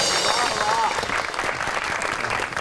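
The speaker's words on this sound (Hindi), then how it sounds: "आपकी बहुत सी तालियों में" Studio audience applause on an Independence Day special of a Pakistani TV entertainment show, a dense, steady wash of clapping filling the whole stretch with a faint voice or tone drifting through it.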